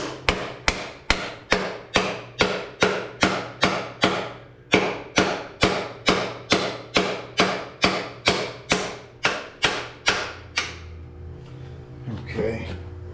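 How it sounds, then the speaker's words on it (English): Hammer blows drive out a part from a Kubota BX tractor using an impact socket as a drift, about twenty sharp, evenly paced metallic strikes close up, then stopping with faint handling noise. "I'm going to use one of my impact sockets to drive that out of there."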